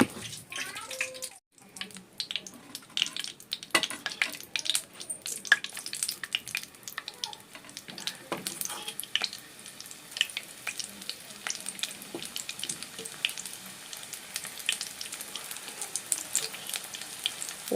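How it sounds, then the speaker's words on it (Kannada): Mushroom kebabs dropped into hot oil, frying with a bubbling sizzle and scattered sharp crackles and pops, nearby and moderately loud, with light handling noises and brief quiet moments. "ಇವಾಗ ಚೆನ್ನಾಗಿ ಎಣ್ಣೆ ಕಾದಿದೆ ಇವಾಗ ಎಣ್ಣೆಗೆ ಬಿಡ್ತೀನಿ ಬನ್ನಿ"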